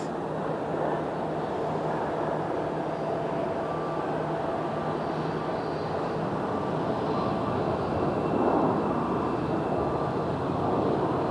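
A WestJet airliner taxiing at Phoenix airport, a continuous broad engine rumble and whine heard from a moderate distance, fairly steady with a slight swell near the end, no voices.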